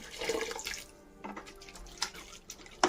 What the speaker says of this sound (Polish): Zalewam ją wodą.